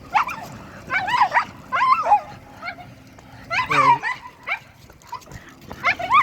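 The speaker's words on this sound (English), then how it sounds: "I see that little dog." A little dog yaps and yips in short high-pitched bursts, several barks in quick clusters with brief whimpering pauses, fairly close by outdoors.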